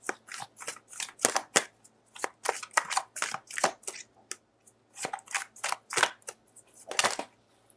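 Tarot cards being shuffled, handled and drawn from a deck, with quick bursts of crisp riffling and slapping close by, broken by short pauses.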